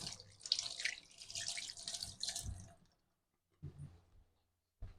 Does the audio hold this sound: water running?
yes